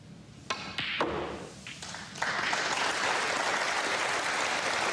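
A snooker crowd at an English Open semi-final breaks into applause for Ronnie O'Sullivan, a few scattered claps growing into steady, sustained clapping across the hall, fairly loud and without commentary.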